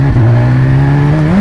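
Tuned BMW S1000RR motorcycle with an aftermarket exhaust and the catalytic converter removed, a loud close engine drone holding a steady pitch that climbs slightly at the end.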